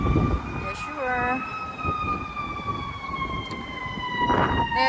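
Emergency vehicle siren, fire engine or ambulance, passing on a street in America: a loud wailing tone that sweeps repeatedly up and down, with brief yelps and traffic rumble underneath and faint voices in the background.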